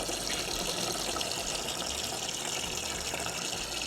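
Water gushes steadily into a homemade yellow jacket trap, a continuous close pouring and splashing with no break.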